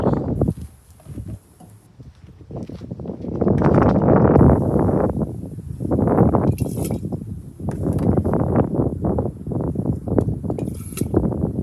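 Fuel mixed with water pouring in uneven bursts into a glass jar, splashing and gurgling loudly, with pauses between pours and a faint high whine in the background.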